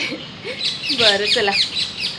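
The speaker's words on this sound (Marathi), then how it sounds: "आणि हा जो तुम्हाला आता येतो आहे मस्त पक्ष्यांचा चिवचिवाट वगैरे" Birds chirp and tweet outdoors, overlapping with a short spoken phrase in the middle.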